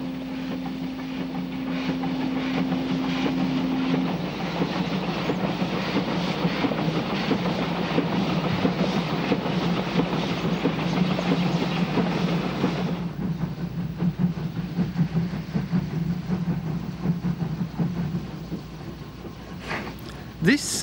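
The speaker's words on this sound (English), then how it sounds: "This is the 6:30 train from Ereğli, arriving in Armucuk some 40 minutes later." A steam passenger train on a mountain line in Turkey rumbles steadily with rhythmic clattering of wheels over rails and a long sustained whistle tone early on, the noise easing as it slows arriving.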